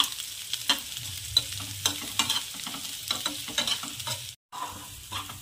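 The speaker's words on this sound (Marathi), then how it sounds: "भाजून घ्यायचं याला छान।" Paneer masala roasts in oil in a pan, a soft sizzle under repeated scraping stirs of a spoon, close and fairly quiet, with a brief dropout near the end.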